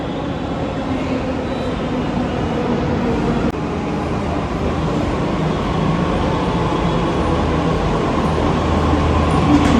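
Steady low rumble of a Delhi Metro train at Preet Vihar station, with continuous rail noise and a faint hum, loud and unbroken throughout.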